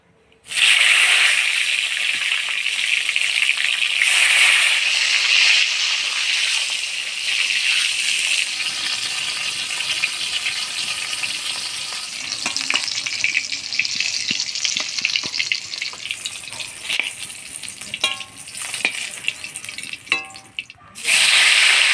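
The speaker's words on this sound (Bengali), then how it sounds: "বেগুন খাসি রান্না করার জন্য আমি বেগুনগুলো হালকা ভেজে নিব" Brinjals frying lightly in hot oil in a kadai, a loud steady sizzle that holds for most of the time, with occasional clinks and stirring scrapes toward the end.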